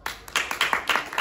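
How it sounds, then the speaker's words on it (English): Sparse, distinct hand claps at a school assembly, a handful of sharp, uneven claps from a few people in a short, thin burst rather than a full applause. "Give our Thwaite captains and vice captains a big clap"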